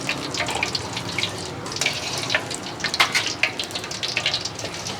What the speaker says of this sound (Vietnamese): rồi rưới nước mắm lên.